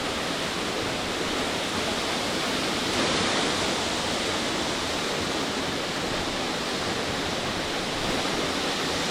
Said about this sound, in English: point my camera up to the waterfall